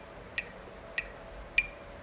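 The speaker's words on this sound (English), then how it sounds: "you're going to snap on beat 2 and beat 3." Three crisp finger snaps spaced about half a second apart, dry and close, over faint background hiss with no talking.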